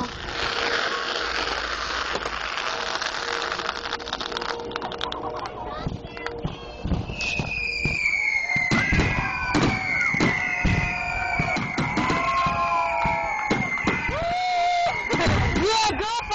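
Fireworks bursting and crackling at a 4th of July celebration, sharp repeated bangs and whistling streaks over steady crowd noise, with people shouting and cheering throughout.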